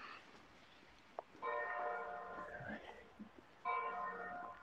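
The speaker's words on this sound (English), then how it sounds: "There's the sound of the bell from the tower." A distant church tower bell in Kraków rings out in two separate sustained chimes, each one lingering and fading, with quiet ambient noise in between.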